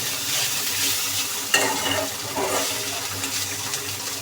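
Vegetables and potato curry frying in a pan as a spatula stirs them, a soft continuous sizzle with a few scraping strokes and a sharper knock partway through, close and moderately quiet.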